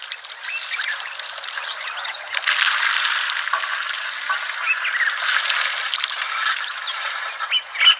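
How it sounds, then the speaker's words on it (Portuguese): Birds singing in the Mozambique wild, where elephants roam, a dense continuous chorus of chirps and trills, fairly loud and unbroken throughout, with no voices. "Dá para ouvir o canto dos pássaros."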